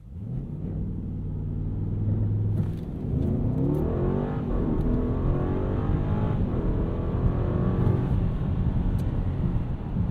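A 2024 Mercedes-Benz GLS580 4MATIC SUV engine holds steady revs on a brake-boost launch, then surges into hard acceleration, a loud continuous roar rising in pitch as it pulls away.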